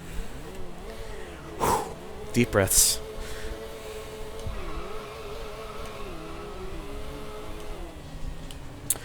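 Simulated car engine in Sega GT racing, droning and rising in pitch through gear shifts, with a couple of louder bursts partway through, heard under someone talking over the game.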